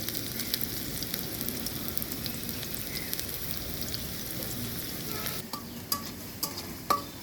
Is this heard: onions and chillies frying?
yes